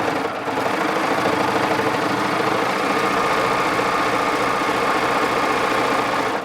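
A Baby Lock serger runs fast and steadily through four layers of denim, a loud continuous mechanical hum and rattle at close range with no talking.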